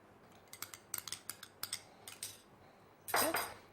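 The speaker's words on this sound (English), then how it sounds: "And keep stirring it." A spoon clinks and scrapes against a pan while ghee is stirred into Bombay Karachi halwa, a string of light, quick metallic taps in an uneven rhythm, faint and close, ending with a louder scraping swish.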